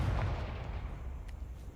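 A Confringo fire spell blasts in the Hogwarts Legacy video game, one low booming burst at the start that rumbles away over the next second or so, fairly quiet.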